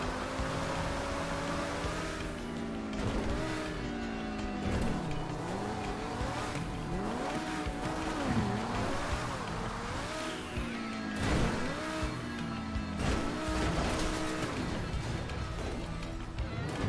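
A car in GTA 5 Online driven freestyle on a custom map, the engine revving up and down in repeated sweeping pitch glides with tire squeals and knocks, loud and continuous throughout.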